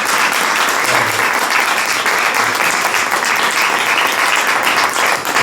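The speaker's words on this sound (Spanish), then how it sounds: "Un aplauso para él." Loud, sustained applause fills the room for the author at a poetry book presentation, a thick, uniform roar of many hands clapping without pause.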